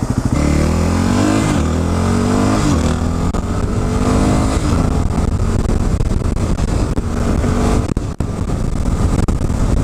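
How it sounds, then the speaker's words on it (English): A new motorcycle rides on an open road, its engine loud and close, revving and shifting up through the gears with a continuous rushing drone and a brief dip near the end. "as I take my beautiful new bike out for a little rip"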